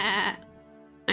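Sheep bleat from the video game Town of Salem 2: one loud, wavering, close bleat lasting about a third of a second, followed by its fading tail, with a new sound starting abruptly at the end.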